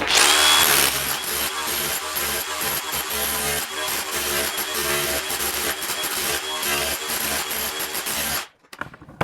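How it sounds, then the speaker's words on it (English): DEWALT brushless 20-volt hammer removing floor tile, a loud, dense rapid hammering rattle mixed with scraping and cracking of tile, running nearly continuously before stopping abruptly near the end. "For tile removal, I just bought this tool, brushless, 20 volts hammer, so it's really nice."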